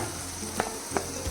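Ginger hitting hot onion and oil in a pan for a Kerala coconut-milk fish curry gives a steady close sizzle, with two soft stirring knocks.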